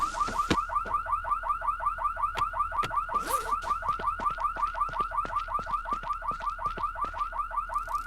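A car alarm in the zombie survival game No One Survived blares a rapid, steady, repeating electronic pulse, loud and continuous throughout, with occasional sharp clicks and clatter from the game over it.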